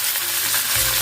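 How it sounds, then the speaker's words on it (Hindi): Cumin seeds and curry leaves crackle and sizzle in a pan for a tempering, a loud, dense hiss of frying heard up close with no talking. "तो पहले हम फ्राई डाल देंगे, जीरा डालेंगे, थोड़ा सा कड़ी पत्ता डालेंगे"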